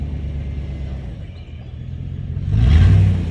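Tractor engine rumbling steadily while trying to pull out a stuck vehicle, then revving louder and rougher near the end, close and continuous with no talk.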